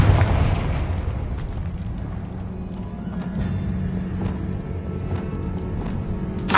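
A Confringo fire spell explodes in the game Hogwarts Legacy, with a sharp burst at the start followed by a loud, steady low rumble that fills the rest of the moment with no voices.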